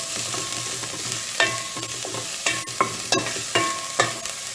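Celery, danias and lemongrass cooking together in a pot for a vegetable soup, a soft steady sizzle broken by several sharp scraping stirs of a utensil against the pot, no talking.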